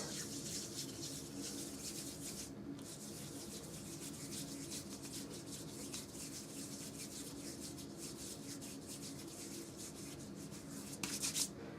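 Hands rubbing self-tanner lotion over the knuckles and wrists make a steady, close, soft rubbing and swishing sound that runs without a break, with no voices.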